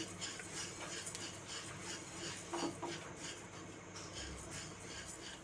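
Coriander seeds dry-roast in a pan over a medium flame and are stirred, giving a faint, continuous, gritty rustling and scraping with a few slightly louder strokes.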